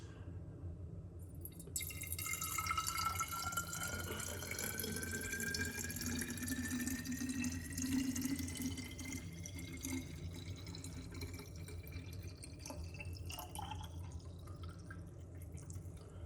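Liquid pours steadily into a container in a home kitchen during preparation of a turmeric and ginger detox shot, a continuous trickling stream with a rising pitch as the vessel fills, close and fairly quiet.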